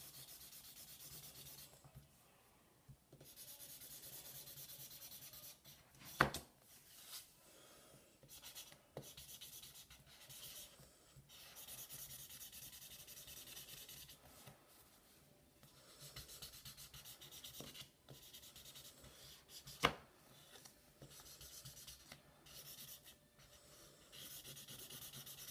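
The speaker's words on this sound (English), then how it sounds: "I'm going to go ahead and color this side." A marker is rubbed back and forth over paper as one side is colored in, giving a steady, close, scratchy scrubbing that runs throughout with brief pauses and a couple of sharp knocks.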